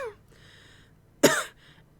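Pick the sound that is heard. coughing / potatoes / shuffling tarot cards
coughing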